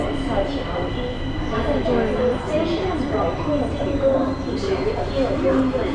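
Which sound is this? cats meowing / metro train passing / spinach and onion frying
metro train passing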